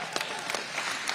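Brief burst of audience applause at Governor Joe Lombardo's school choice rally, scattered hand claps forming a steady wash of clapping at moderate volume with no voices on top.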